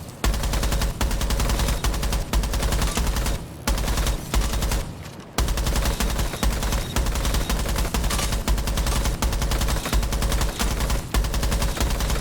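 Rapid automatic gunfire in Rainbow Six Siege, loud sustained bursts with a short break midway, then continuous firing again; no voices.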